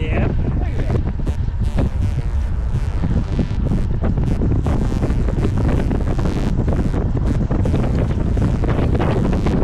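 Strong wind buffets the microphone while a boat heads east into it on a lake, a loud, continuous roar with gusty bursts throughout.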